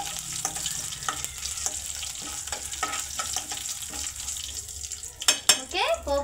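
A pan of popu, a tempering for peanut chutney, sizzles and crackles steadily as it fries, with soft spoon stirring and clinks against the pan, and a sharper clatter of utensils near the end.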